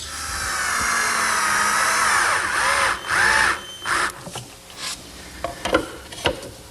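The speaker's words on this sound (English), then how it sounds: "now I'll center the base on the top and attach it with some screws" A power driver whirs steadily as screws are driven to fix a student's desk base to its top, then gives several short separate bursts. It is close and loud, with no talk.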